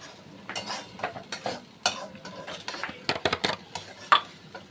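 Soft sizzling and stirring in a hot pan of prawn malai curry as water goes in, quiet scraping and clinking against the pan in irregular bursts, with no talking.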